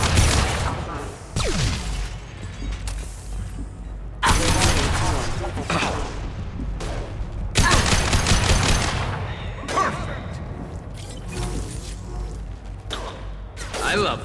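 Rifle gunfire in the Mass Effect 2 video game, loud bursts of rapid shots crackling in clusters with brief pauses between volleys, mixed with impacts and some voice chatter.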